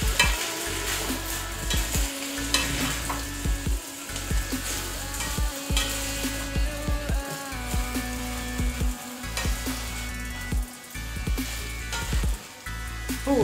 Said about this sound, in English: Then stir nicely. Give it a good stir.